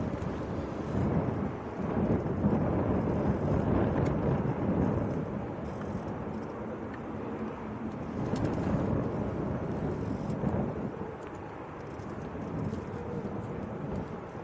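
A KLM airliner departs Manchester Airport bound for Amsterdam, a steady, broad jet roar that holds loud and continuous with slow swells in intensity as it climbs away.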